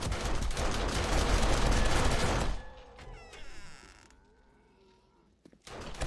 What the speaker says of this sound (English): at this point I can just turn my turrets back on